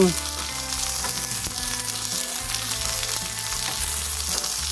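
Chopped onions sizzle steadily in hot oil in a pan, a dense, close crackling hiss that holds constant throughout, with a low background hum and no voices.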